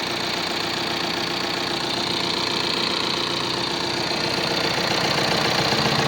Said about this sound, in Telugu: సార్ బండి స్టార్ట్ చేస్తున్నా. ఓకే, బండి అనేది స్టార్ట్ అయింది.